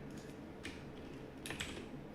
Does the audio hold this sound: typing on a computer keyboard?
yes